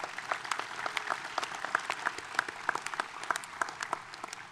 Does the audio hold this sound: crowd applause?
yes